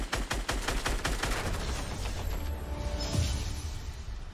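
Rapid bursts of automatic gunfire in the Fortnite battle royale game crackle loudly for about a second and a half, then give way to quieter mechanical clicks and rattles.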